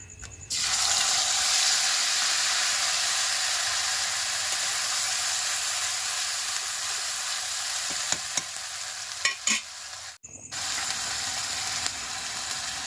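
Spice paste hits hot oil in a wok with a sudden loud burst of sizzling that settles into a steady, intense hiss, broken by a few scraping knocks and a brief pause near the end.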